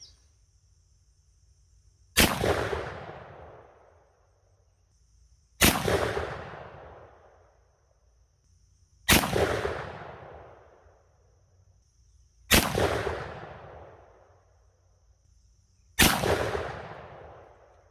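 A Mossberg shotgun fires Winchester Super X 3-inch 1/4 oz .410 slugs: five loud, sharp shots spaced evenly about three and a half seconds apart, each trailing off in a brief echo, with faint insects between them and no talk.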